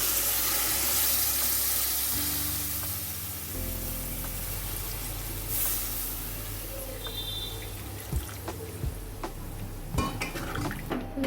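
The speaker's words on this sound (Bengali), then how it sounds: "এবার আমি দিয়ে দেবো এর মধ্যে নারকেলের দুধটা" Homemade coconut milk poured into a cooking pot of kochur loti (taro stolon) curry on a gas stove, with clinking metal utensils, splashing liquid and light stirring that ends in a few sharp knocks against the pot, and no talking.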